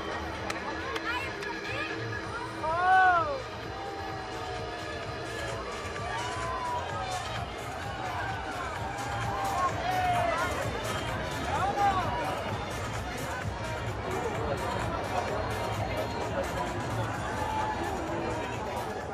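A large crowd fills a Tel Aviv street with steady babble and chatter, scattered whistles and a few louder shouts, many voices blended at middle distance.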